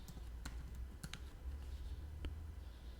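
Keys tapped on a computer keyboard in a quiet room, a handful of sparse, light clicks spread over a few seconds against a low steady hum.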